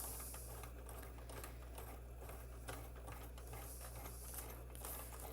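An electronic cutting machine slicing out a stencil makes a steady, low mechanical whir with a rapid patter of small clicks, running continuously and fairly quietly.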